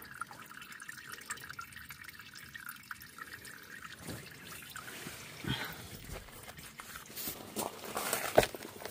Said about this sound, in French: Donc là, la durite, elle a été débranchée. Le liquide s'écoule.